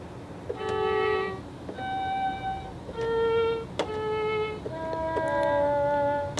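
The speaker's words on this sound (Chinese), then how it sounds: "然后第4个的话是小提琴，" A toy electronic keyboard plays a violin voice, giving a handful of held notes, each with a faint key click, close and moderately loud, and no one talks.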